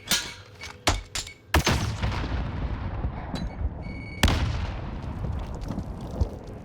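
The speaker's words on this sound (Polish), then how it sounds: "Także leci granat." A grenade blast in Call of Duty: Warzone lands as a heavy boom among several sharp gunshot cracks, with a second loud explosion later and rumbling tails between hits.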